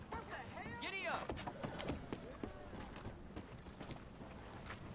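Horse hooves clip-clop at a run in Red Dead Redemption 2, a steady rhythmic patter under layered game sound, with voices talking over it.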